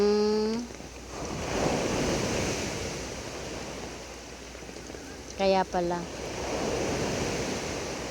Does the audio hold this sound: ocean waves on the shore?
yes